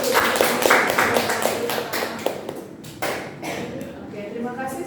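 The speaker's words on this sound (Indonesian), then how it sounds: "beri tepuk tangan yang meriah" A classroom audience breaks into applause, with many hands clapping in a lively patter that thins out over a few seconds while voices talk over it.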